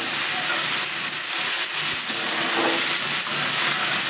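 Kakrol, teasel gourd, sizzles steadily in hot oil in a pan, a continuous bright hiss with no talking.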